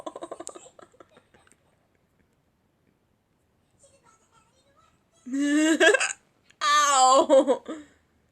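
A person in the middle of a long, painful hiccup attack hiccups repeatedly: a few small clipped bursts at first, then a quiet gap, then two loud, drawn-out vocal outbursts close to the microphone.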